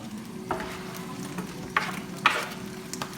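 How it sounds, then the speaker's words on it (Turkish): Onion being sautéed in a pan for Turkish çökertme kebab, with a steady low sizzle under a few sharp stirring scrapes and clinks of a utensil, close and moderately quiet, no talk. "Ekledikten sonra 1-2 dakika kavuruyoruz."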